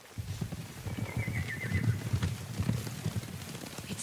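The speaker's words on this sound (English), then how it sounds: "Horses, they're coming for us." Horses approach in the video game Ghost of Tsushima, with a neigh and a low rumble of hooves. The sound is moderately distant and fairly quiet, and a faint rain-like hiss sits underneath.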